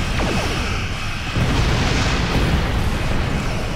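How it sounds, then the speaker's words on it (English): Torpedo hits exploding in the space game Star Trek Online, a loud, dense and continuous rumbling blast that holds steady for several seconds with no voices over it. "I hit him with both torpedoes, which is always good."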